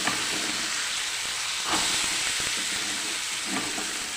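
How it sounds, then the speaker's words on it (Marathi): Cluster beans sizzle loudly in hot oil of a spiced tempering, a dense continuous hiss with a couple of brief stirring swells and no talking. "शेंगा छान अशा तेलात आपल्याला परतून घ्यायच्या आहेत"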